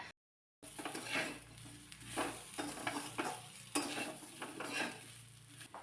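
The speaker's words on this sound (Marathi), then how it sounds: "वांगी परतून घेतली चांगली मसाल्यामध्ये" Eggplant stir-fried in masala for a spicy curry, a spoon scraping and turning it in the pan with repeated clattering strokes over a low, steady sizzle.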